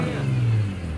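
A car engine revs briefly under a passenger-controlled gas pedal at a race course, a short mid-pitched rising and falling roar that is loud and close, with no voices.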